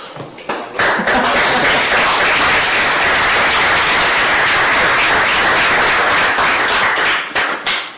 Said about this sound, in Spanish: Tras el pertinente y merecido aplauso